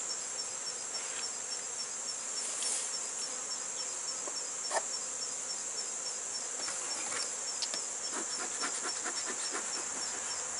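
Honey bees buzz steadily around an open hive outdoors, a continuous close hum with individual bees passing near and drifting off, no voices.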